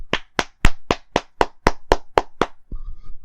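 About ten sharp, evenly spaced hand claps in a steady rhythm, loud and close, followed by a faint short tone.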